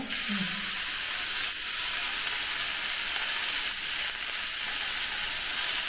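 Curry leaves and chillies sizzle in hot oil with a steady, loud crackling hiss that holds throughout, a brief low clatter near the start.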